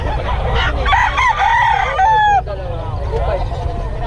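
A nearby chicken crows loudly in several drawn-out calls, with clucking and background chatter around it.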